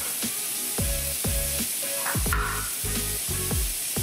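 Garlic hits a hot pan with a loud, close sizzle, crackling in quick bursts and spatters that keep popping steadily over a few seconds with no talking.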